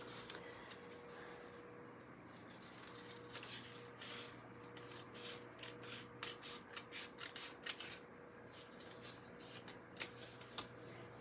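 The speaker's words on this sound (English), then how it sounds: "it looks like I may need to cut a little bit off" Scissors snip through a candy corn ribbon in a quiet room, a series of short, crisp cuts clustering mid-clip with soft rustling of the ribbon between them, close and fairly faint.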